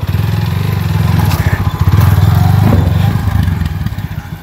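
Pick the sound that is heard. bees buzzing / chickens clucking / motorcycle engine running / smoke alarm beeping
motorcycle engine running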